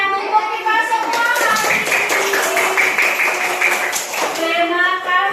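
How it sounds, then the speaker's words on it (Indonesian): Children and a teacher clap hands together in a primary school classroom, a quick patterned rhythm of claps mixed with chanting and talking voices throughout, close and loud. "Tepuk tangan untuk kita semua."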